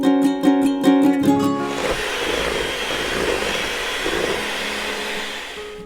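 Electric mixer briefly whirring through vanilla cream filling for sandwich cookies, a steady high motor hum after a few short clinks at the start.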